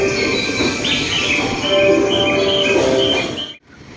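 Train arriving near Shibuya Crossing in Tokyo, a steady rolling rumble with high squealing, chirp-like tones on top that stops abruptly at the end.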